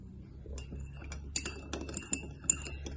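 A spoon clinks and scrapes lightly against the inside of a cup in quick, irregular taps while stirring in sugar, close and fairly quiet, with no talking.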